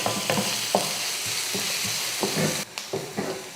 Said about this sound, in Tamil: பாருங்கள், வெங்காயம் இந்த அளவுக்கு வதங்கிக்கிட்டால் போதும்.